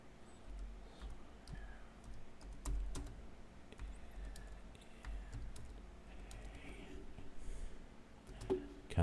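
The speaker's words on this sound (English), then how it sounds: "I gotta type it out because I can't pronounce that word." Fingers type on a computer keyboard in quick, uneven bursts of close, crisp key clicks over a low room hum, with no clear speech.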